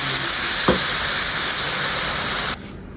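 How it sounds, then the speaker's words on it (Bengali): Hot water poured onto fried rice in a pan gives a loud, steady hiss of sizzling steam, with one brief low thump early on, before the noise drops away sharply near the end. "আমি এখন গরম পানি অ্যাড করে দেব।"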